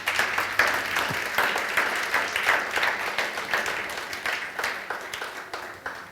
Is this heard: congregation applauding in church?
yes